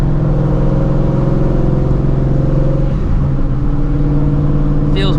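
A supercharged Shelby GT350 on new wheels and tires cruising, its engine a loud steady droning rumble heard close from inside the car, holding a constant pitch throughout.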